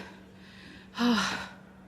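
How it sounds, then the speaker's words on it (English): A single heavy breath after running up the stairs to a rooftop terrace, a short loud gasping exhale of about half a second standing out near the microphone against quiet background. "Man, I'm panting."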